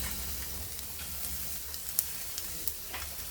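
Steady sizzling of squid frying on a hot grill pan, a close, continuous crackle with occasional sharper pops and no talking.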